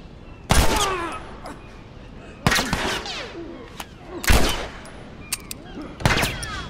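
Gunfire in the video game The Last of Us Part 1 comes as four loud, sharp shots spaced roughly two seconds apart, each ringing out briefly, with faint background sounds between them.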